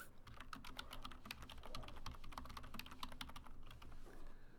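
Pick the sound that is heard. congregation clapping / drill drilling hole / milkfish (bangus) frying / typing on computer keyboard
typing on computer keyboard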